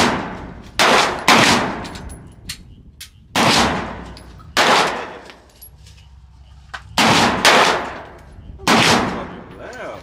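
Loud gunshots ring out at an outdoor shooting range, single sharp reports spaced a second or more apart, each with a decaying echo, with faint voices between shots.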